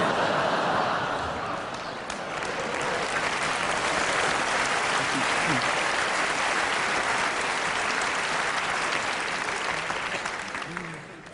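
Sustained, dense applause from a comedy festival audience in Montreux, loud and steady throughout with a brief dip, filling the hall.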